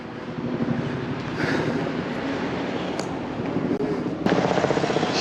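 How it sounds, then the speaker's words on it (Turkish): Helicopters fly overhead in Zimbabwe, a steady, fairly loud rotor drone with throbbing low beats under wind noise, lasting throughout with occasional bumps and clicks near the microphone. "Hala helikopterler uçuyor ya."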